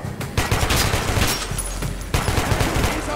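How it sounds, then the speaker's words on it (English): Silenced weapon fire in Metro 2033 Redux: several muffled shots arrive in two bursts, with sharp clicks and low thuds over steady background ambience, close and moderately loud. "This weapon, because it's silenced and it's supposed to kill with one bullet, seems to me a little overpowered."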